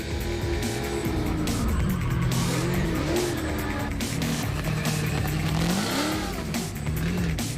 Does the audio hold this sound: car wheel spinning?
yes